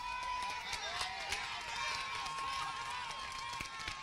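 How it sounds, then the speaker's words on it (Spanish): Church congregation applauds in a continuous, fairly distant wash of clapping mixed with crowd voices, steady throughout with no clear break. "Dele un aplauso a Dios."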